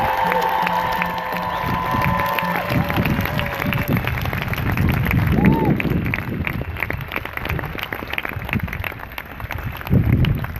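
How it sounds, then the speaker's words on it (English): A rally crowd in Washington DC for Standing Rock bursts into sustained applause and cheering, with clapping and shouts filling the space up close, along with whistles and voices in the mix. "How about one more big round of applause for that?"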